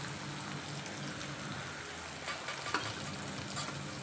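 Onion sautés in a pan with curry leaves, a soft and faint steady sizzle and crackle with a few small stirring clicks and pops.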